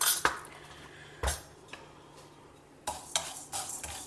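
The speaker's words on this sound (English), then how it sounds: "Roast them till the dals are brown." Coriander seeds with urad dal and channa dal dry-roasting in a pan, heard as a few separate scraping and clinking stirs with quiet gaps between them.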